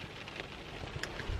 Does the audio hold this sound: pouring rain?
yes